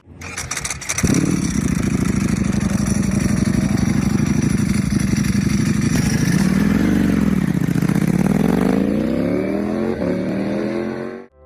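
A Ducati motorcycle engine fires up loudly and idles with a deep, throbbing rumble, then revs up and down in a rising and falling swell before shutting off.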